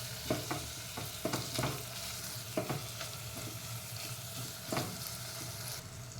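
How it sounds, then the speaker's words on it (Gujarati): Onions with ginger-garlic paste sizzling in a frying pan, stirred with a series of scraping strokes over a steady sizzle, with no voices. "આ લસણની પેસ્ટ આપણે એને એડ કરીશું ડુંગળી થઈ ગઈ છે હવે એને પ્રોપરલી મિક્સ કરી દઈશું અને થોડી વાર પાછું થવા દઈશું"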